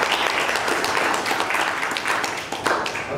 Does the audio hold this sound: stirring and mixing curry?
no